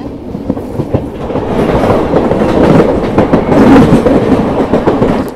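Vikramshila Express passenger train running between Bhagalpur and Anand Vihar, a steady loud rumble of wheels on rails with rhythmic clickety-clack beats heard from on board, no talking.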